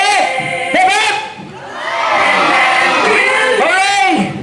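A loud crowd at a Christmas event in Banaue cheers and shouts hooray in unison, two big swelling bursts of voices with a rowdy roar between them.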